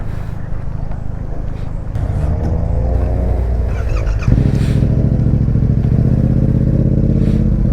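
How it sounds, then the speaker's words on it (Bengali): Cars and motorbikes turning around on a road at night, their engines droning steadily close by and growing louder and fuller after about two seconds, with a faint voice underneath. "গাড়িও ঘুরাই দিতেছে"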